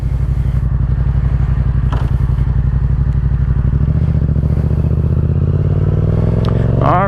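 A 2015–2017 Yamaha FZ-07 motorcycle engine revs hard and close, its loud rapid pulsing firing note climbing and falling with some mechanical clatter, no talking.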